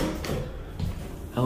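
Doors of a hydraulic elevator sliding shut in a hotel, a low rumbling slide followed by a soft thud near the end, with a voice speaking over it.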